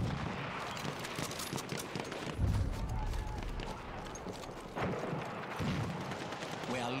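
Double-barrel shotgun blasts in Battlefield 1 ring out amid a noisy battlefield, a couple of heavy low booms standing out over continuous background gunfire and commotion.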